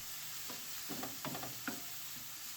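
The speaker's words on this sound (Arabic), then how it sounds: "كنبداو نشحروا البرو هو الاول مع شويه الملحه والزيت" Onion sautéing in oil with a pinch of salt in a pan gives a soft, steady sizzle, broken by a few quiet scraping stirs near the middle, faint and without any talk.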